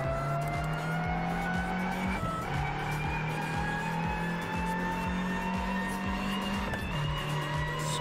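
A historic Mini race car in the Assetto Corsa racing game, its engine droning steadily and loud throughout, pitch dropping with gear changes and a brief tyre squeal as it slides through a tight corner.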